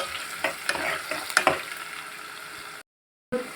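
Potatoes frying for aloo curry, stirred in a pan with scraping clinks over a steady sizzle, close and moderately loud; the sound cuts out briefly near the end before resuming.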